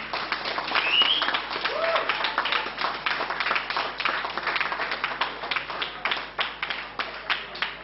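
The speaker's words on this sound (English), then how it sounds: "please give a round of applause for Parliament Cat." An audience at a sovereignty talk gives a round of applause, a continuous mass of clapping that stays moderately loud and slowly thins toward the end.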